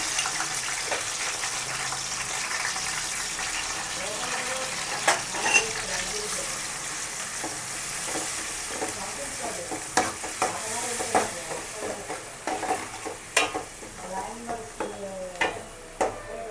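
Red onion paste added to fried green chillies in a pan for fish gravy, a soft steady sizzle with scattered scraping clicks of stirring that grow more frequent toward the end.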